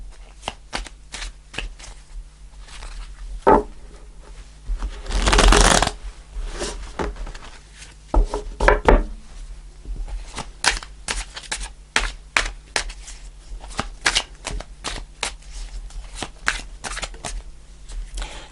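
Tarot cards shuffled and handled at close range, with rapid riffling, a long dense burst of shuffling midway, and scattered crisp card slaps and taps throughout, with no talk.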